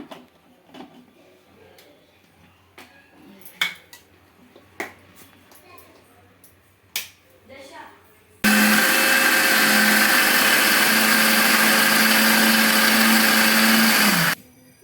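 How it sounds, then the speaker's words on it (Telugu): Faint clicks and light handling sounds, then a loud, steady mixer grinder whirs continuously for about six seconds, grinding chutney with water and salt, before cutting off. "స్మూత్గా గ్రైండ్ చేసుకోవాలి చట్నీ"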